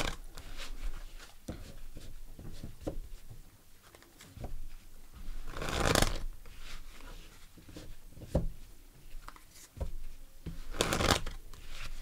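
Tarot cards being shuffled by hand, repeated crisp riffling bursts and softer sliding card sounds in an irregular rhythm, close and clear with no talking over them.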